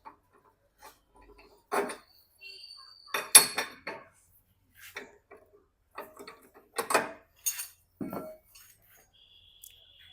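A handle bolt and nut being loosened with tools on a Hero Maestro scooter, sparse metallic clinks, ratcheting clicks and tool taps scattered irregularly in a quiet space, close and fairly faint, no voices.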